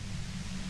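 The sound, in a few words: loud white noise in the video game Disco Elysium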